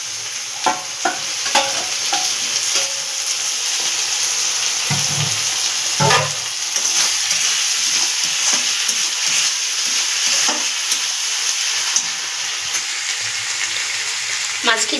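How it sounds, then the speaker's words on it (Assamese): Fish pieces rubbed with salt and turmeric frying in hot oil, a loud continuous sizzle close by with intermittent stirring scrapes and clinks throughout. "মাছখিনি ইমান ধুনীয়াকৈ ভাজা হৈছে"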